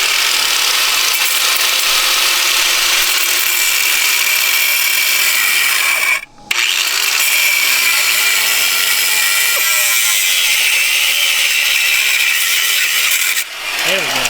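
A power tool grinds and cuts steadily through a corroded part on a car, a loud continuous whine that breaks off briefly near the middle, then resumes until a short pause near the end.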